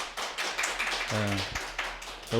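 A congregation at a Korean Sunday church service claps after a special song, a close burst of hands with brief voiced tones mixed in.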